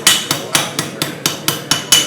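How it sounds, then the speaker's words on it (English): A hammer strikes metal in a steady rhythm, about nine sharp, loud ringing blows spaced roughly a quarter second apart, each with a quick metallic decay. No voices are heard. "I'm going to hammer the other side there just to correct that"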